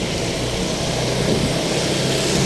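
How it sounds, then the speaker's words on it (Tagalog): Steady rain and drizzle falling continuously on a road trip to Makati City, Philippines, a dense broadband hiss with a low rumble underneath, no voices. "patuloy pa rin yung pag-ulan, pag-ambon"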